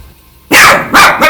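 A dog barks loudly and close, with two sharp barks and a shorter third yelp in quick succession after a quiet start, during Danganronpa V3 gameplay.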